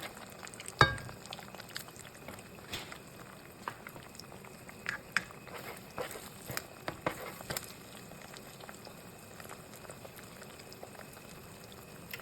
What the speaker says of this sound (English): The sausage crisps up in the pan, its oils releasing into the mix